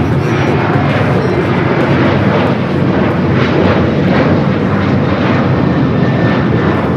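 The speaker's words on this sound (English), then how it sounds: "This is Alaska Airlines 1430 taking off to Puerto Vallarta on the 737-900ER." An Alaska Airlines Boeing 737-900ER takes off at LAX with a loud, steady jet-engine roar that fills the whole stretch, broad and rumbling without letup.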